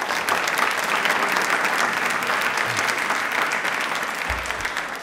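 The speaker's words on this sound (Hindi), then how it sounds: "एक बार तालियां हो जाए सर के लिए प्लीज" Thick, continuous applause from an audience at a quiz event for Birsa Munda's birth anniversary and Tribal Pride Day, honoring a guest speaker, loud and even throughout with no voices over it.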